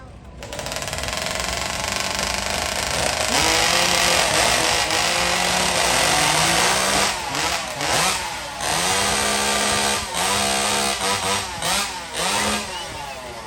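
Hot saw racing chainsaws warm up at the state fair, loud and close, as engines roar and rev in repeated surges with sharp pitch swoops. Rough mechanical buzzing fills the whole stretch.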